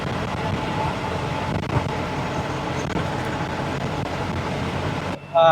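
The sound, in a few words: Ashok Leyland Saathi truck driving through a curve at 65 km/h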